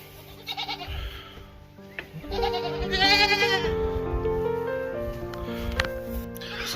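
Several goats bleat repeatedly, close and loud, in a farm setting, with overlapping calls of varying pitch across the whole stretch and some faint background noise.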